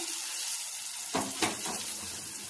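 A tempering for curd chutney fries in a pan with a soft, steady sizzle, joined midway by a brief louder burst of stirring or spattering, close and without speech.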